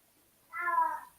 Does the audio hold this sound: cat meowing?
yes